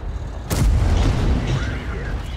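In a tank battle video game, an artillery shell slams into an allied TVP vehicle with a sudden loud boom that rumbles away into noisy background clatter.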